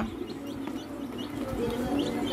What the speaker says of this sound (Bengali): আমাদের ঘরে কি সুন্দর সুন্দর ছোট ছোট মুরগির বাচ্চা